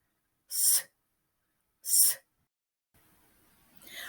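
A voice imitates a snake's hiss with two short, sharp hissing bursts about a second apart, followed by quiet room noise.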